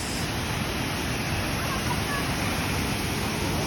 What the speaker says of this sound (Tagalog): Nandito na kami guys sa Tinoy An Falls